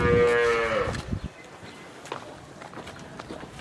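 A large cow at a livestock sale gives one loud, close moo lasting about a second, then hooves shuffle and step on the ground in a quieter farmyard.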